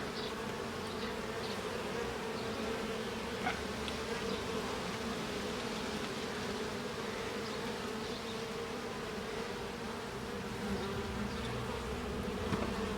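Honeybees in a nucleus hive hum in a steady, dense drone that holds evenly throughout, close and continuous with no talking.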